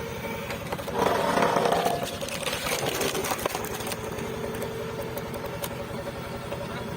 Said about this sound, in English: a new sound rises, deep, steady, unmistakable. It is the sound of machinery, of labor in motion